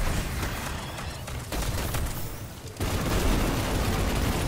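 Dense, continuous gunfire and explosive bursts in the video game Destiny 2, loud and close, with brief lulls before the barrage resumes.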